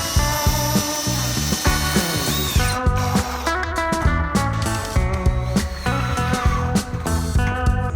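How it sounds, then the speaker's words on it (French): A power drill drives screws into a wooden batten fastened inside a wall stud, giving bursts of whirring and ratcheting clatter. The bursts come one after another, close and loud, with no voices. "on vient visser le tasseau à l'intérieur."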